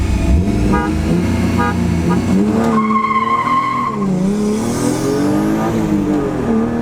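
A car horn sounds in short beeps, then one sustained honk, over loud engine revving and tire noise that swells and falls during a race between a BMW E36 M3 and a turbocharged VW Golf 1.8T.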